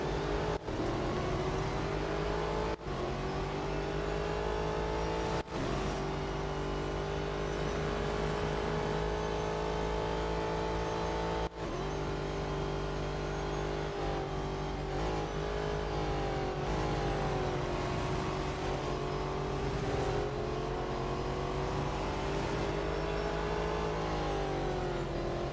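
Race cars in the mobile racing game Real Racing 3 during a four-lap race, a continuous loud engine drone with rising and falling pitch as gears shift and revs climb, punctuated by brief clicks, with no talking.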